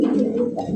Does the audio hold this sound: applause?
no